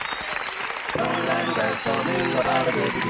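Applause sample jingle triggered from a Maschine Mikro MK2 pad: a burst of clapping crowd applause starting about a second in and continuing densely to the end, over a faint background hum.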